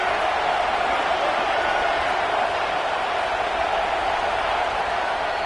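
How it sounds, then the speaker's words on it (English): A football crowd at a Florida State scrimmage roars steadily as the defense lines up on third down, a dense, sustained wall of cheering that never drops away. "Decibels rising as the crowd gets behind this defense on 3rd down."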